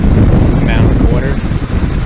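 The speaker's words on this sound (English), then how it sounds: "It's really fucking windy out here today." Strong wind buffets the microphone at a dam in French Creek State Park, a loud continuous roar with faint bits of voice underneath.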